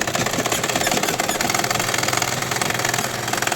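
A sewing machine running a straight lengthwise seam on kurti fabric, a loud, fast, continuous mechanical chatter of needle strokes with no pauses across the whole stretch.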